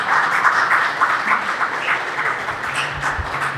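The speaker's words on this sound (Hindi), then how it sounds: "हम तालियों से उनको मेहमान वेलकम कहेंगे, खुश आमदीद कहेंगे।" Guests at an Easter reunion party in Lahore are welcomed with a steady burst of audience clapping, dense and continuous throughout, fairly close, with no speech over it.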